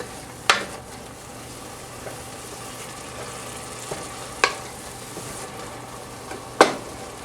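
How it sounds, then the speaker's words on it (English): Onion sizzling in broth in a pan for Hungarian cauliflower and mushroom soup, a soft steady fry with three sharp clinks of utensil against pan spaced a few seconds apart. "So I just sauteed this"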